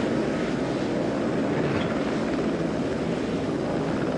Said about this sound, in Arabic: أعرف تلك الطائرة